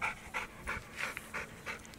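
A pit bull pants close by in quick, even breaths, about six rhythmic huffs with no talking over them.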